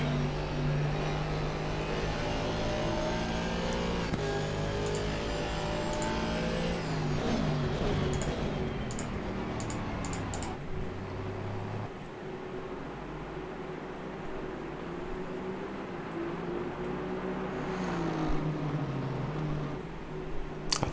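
Race car engine in the Low Fuel Motorsport sim racing game, revving up through gears with rising pitch sweeps and small pops at the shifts, a steady droning run under occasional clicks.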